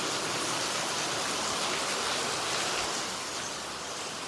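Heavy monsoon rain pours down steadily in a dense, loud, unbroken hiss that fades slightly toward the end.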